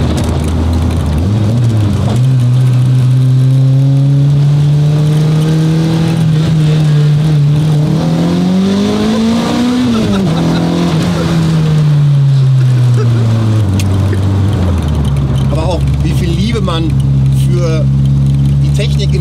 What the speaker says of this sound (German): wir sind jetzt gerade beschleunigt, ich weiß nicht, von 40 auf 55